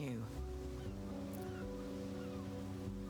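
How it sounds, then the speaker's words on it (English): Ocean waves roll gently up onto a sandy beach in a continuous, soft wash, heard under steady tonal music that fills the background throughout. "The waves roll up the sand"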